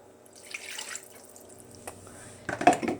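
Water runs briefly from a kitchen tap while pumpkin bread batter is being mixed, with a few short splashes and a louder gush near the end in an otherwise quiet room.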